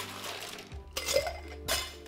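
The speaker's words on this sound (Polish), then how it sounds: "Dodaję lodu." Ice cubes dropped into a glass while mixing a Pink Gin cocktail of gin and Angostura bitters, giving a few distinct clinks and knocks close by with short pauses between them, and no talking.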